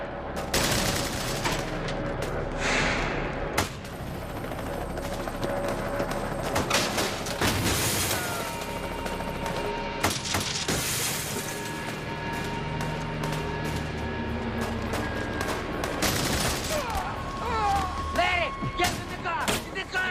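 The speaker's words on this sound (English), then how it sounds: "They're still shooting at us." Heavy gunfire in a street shoot-out with police: bursts of automatic weapon fire and sharp single shots crack and echo irregularly over twenty seconds, some close and loud, others more distant, with shouting voices mixed in.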